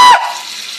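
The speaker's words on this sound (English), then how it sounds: "I guess I can turn the water on" A water tap is turned on, a brief squeak followed by a bright rush of running water that quickly settles into a softer steady flow.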